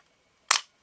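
A Nikon F film camera's shutter fires once at 1/125 second, a crisp, close mechanical snap followed a moment later by a softer click, alone in a quiet room.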